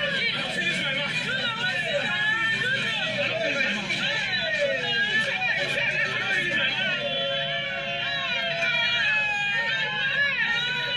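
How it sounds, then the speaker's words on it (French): A crowd of people shouting and wailing over each other, a dense, steady wall of overlapping cries and voices lasting throughout, fairly loud and continuous. "Les gens sont en train de crier."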